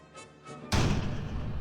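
A 3.7cm L46 cannon on a German half-track fires in the WWII strategy game Close Combat 3: The Russian Front, a single loud, heavy thud that booms in suddenly and rumbles on after a quieter stretch.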